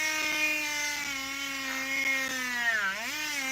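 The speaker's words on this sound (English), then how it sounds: "I have another Dremel actually. I have a more heavy duty one." A Dremel rotary tool of the engraver type runs with a steady, close, high-pitched whine that dips in pitch briefly near the end, with no talking.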